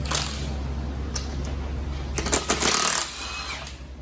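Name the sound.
power tool removing lug nuts from Dodge Grand Caravan wheel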